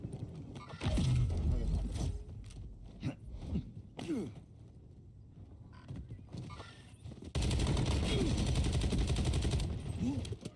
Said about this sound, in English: I think I'm panic firing faster.